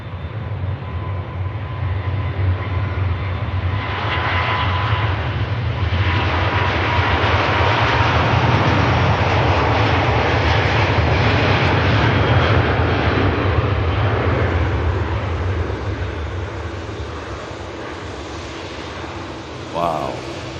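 A departing airliner climbs out of Manchester Airport, its engine roar building to a broad, steady rush that holds loud for most of the stretch and then eases, with voices talking over it.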